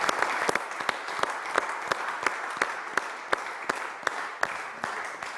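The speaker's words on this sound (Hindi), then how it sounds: "तालियां" A studio audience claps for a police officer hero called onstage on a Pakistani talk show. Steady, moderately loud applause runs throughout, with sharp individual claps standing out above the crowd.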